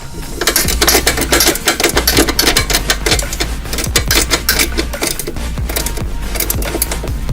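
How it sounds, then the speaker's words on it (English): Bolt tightening on the driver's side of a BMR A-arm support brace on a Mustang GT, heard as a loud, rapid, continuous ratcheting clatter that carries on for the whole stretch without pause. "Next, we're going to tighten down the driver's side bolt first."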